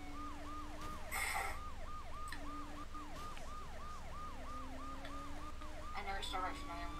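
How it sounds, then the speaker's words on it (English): A wailing police car siren in Saints Row The Third, its regular rising-and-falling yelp repeating steadily and loud throughout, over low game vehicle engine rumble. "I'm in a police car."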